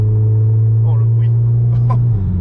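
Turbocharged engine of a Volkswagen Golf 7 GTI with a stage 1 tune, a steady low idle-like drone with a slight rise near the end, heard close up with brief faint overtones and no talking.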